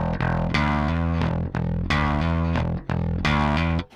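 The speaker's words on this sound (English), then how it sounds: "You hear the pedal open up, you're getting a little more of a raspy sound from the distortion." Scrambler bass overdrive pedal with its treble control raised, giving a loud, raspy, hairy distorted bass tone; sustained notes repeat in three phrases with brief gaps between them, no voices.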